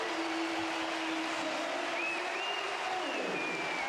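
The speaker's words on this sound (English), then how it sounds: "Crowd on their feet." A basketball crowd roars to its feet at a FIBA World Cup qualifier between Serbia and Israel, a loud, steady wall of cheering and noise from the packed arena that lasts throughout.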